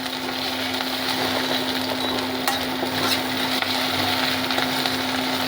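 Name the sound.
onions frying in ghee for dal fry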